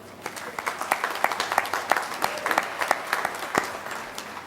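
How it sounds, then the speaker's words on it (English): An audience at a college commencement ceremony applauds, a thin scatter of claps from a modest crowd that stays fairly quiet and even for several seconds. "Please join me in another round of applause for them."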